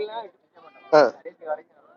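Kodi goats bleat at the Saturday livestock market in Ettayapuram, with a few short, wavering calls close by, the loudest in the middle, mixed with brief bits of nearby voices.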